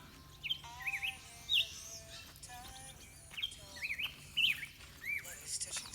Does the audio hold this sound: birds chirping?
yes